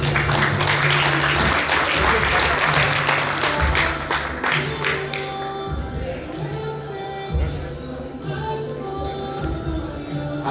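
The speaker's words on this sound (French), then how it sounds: "Je vous demande de l'applaudir," Crowd at a university graduation ceremony in a stadium in Haiti applauds, a broad, continuous patter of clapping that is strongest at first and gradually thins, with a low steady hum from a sound system underneath.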